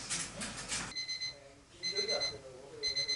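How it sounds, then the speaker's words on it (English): A morning alarm clock rings in bursts of repeated electronic beeps, loud and close, after a short stretch of other noise with faint talk. "It's 6 o'clock when my alarm wakes me for school."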